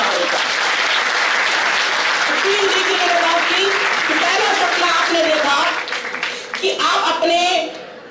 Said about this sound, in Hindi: आपके लिए एक जोरदार जबरदस्त ताली